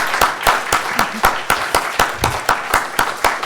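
A church congregation claps together in a steady rhythmic beat, about three claps per second, loud and close, with a voice faintly heard beneath.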